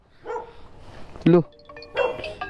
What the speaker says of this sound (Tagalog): Epal tong aso na to ah.